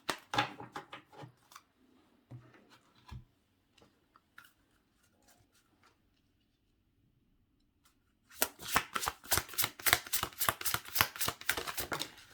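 A large tarot deck being shuffled by hand: scattered soft card riffles and taps at first, then a dense, loud run of rapid crisp card flutters toward the end, close to the microphone with no talking.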